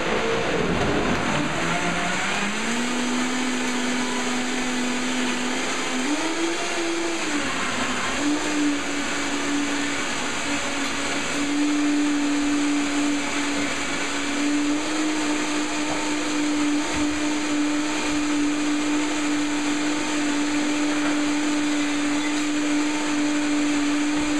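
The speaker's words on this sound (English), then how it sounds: "So I put the lid on tight and blend." A blender running continuously on a green smoothie with a whole bunch of mint, loud and close, its motor whine rising at the start and then holding steady with slight pitch wobbles as the greens churn.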